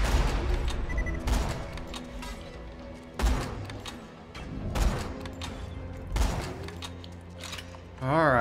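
Gunfire in Borderlands 2 crackles in repeated loud bursts, several sharp volleys with booming hits and a rumbling battle background, close and heavy, with no voices.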